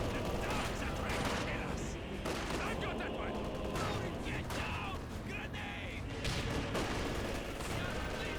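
MG34 machine gun in Company of Heroes 2 firing through a busy battlefield, mixed with bursts of gunfire and distant explosions, steady and loud throughout, with a commentator talking over it.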